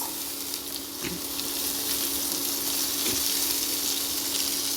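Potato, carrot and beans fry in a pan for paneer navaratna, a bright continuous sizzle with a couple of small clinks and stirs, close by and without speech.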